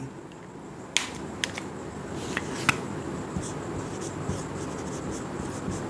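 A pen writing on paper at close range, a few sharp taps and short scratchy strokes over a steady hiss of room noise.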